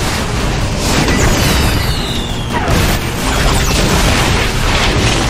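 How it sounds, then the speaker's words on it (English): Rocket launcher explosion in a ghost-hunting video game: a loud, sustained roaring blast with crackling debris that fills the whole stretch without letting up. "Rocket launcher!"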